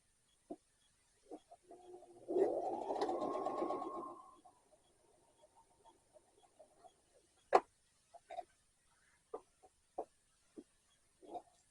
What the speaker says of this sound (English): So now we're just going to top stitch along the bottom of that second card slot now.